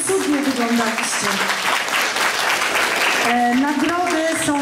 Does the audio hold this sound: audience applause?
yes